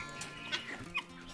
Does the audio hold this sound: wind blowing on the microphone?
no